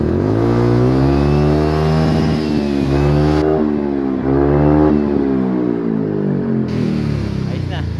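A Yamaha Mio Soul i 125 motorcycle with fuel-injection error codes idles steadily up close, a low harmonic engine hum that rises and dips slightly in pitch, with a person talking over it throughout.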